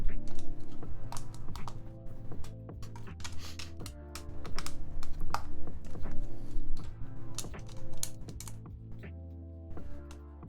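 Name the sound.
typing on a computer keyboard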